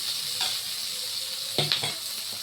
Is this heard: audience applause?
no